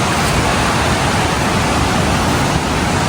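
A river rushing past a campsite tent at Sagana, a steady, close wash of broadband water noise with no breaks and no voices.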